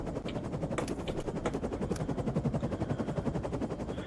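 Rapid automatic gunfire rattles on in a video game shooter, Defiance 2050, with a dense rhythmic stutter of shots and a few sharper cracks layered over it, steady and fairly loud throughout.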